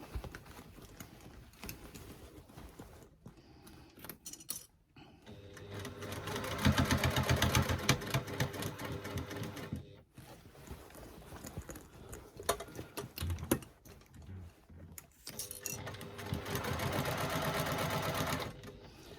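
Sewing machine stitching around the edge of a fabric bag, running in steady bursts of fast mechanical whirring separated by short pauses, close and moderately loud.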